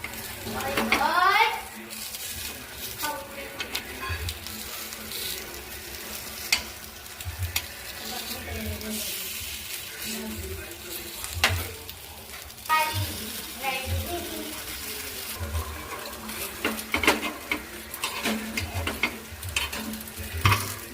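Appam cooks in a pan with a continuous sizzle, with scraping and clinking as the pieces are turned, while people talk over it.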